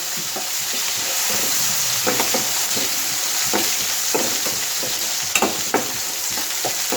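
Sliced onions fry and sizzle in hot oil in a pan with dried red chillies, a loud steady hiss with repeated scraping stirs and light knocks of the spoon, and no talk.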